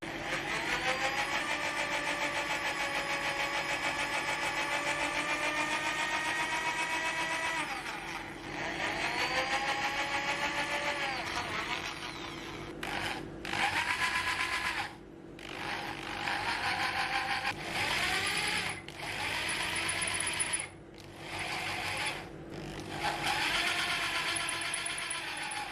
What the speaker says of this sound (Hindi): चलिए हम एल्युमिनियम में भी छेद करके देख लेते हैं, जिसके लिए ये पाइप है और इसमें चलिए होल बना के देखते हैं।